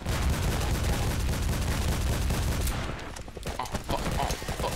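Continuous rapid gunfire from an online multiplayer shooter, Double Action, fills the scene loudly, easing briefly near the end while players shout over it.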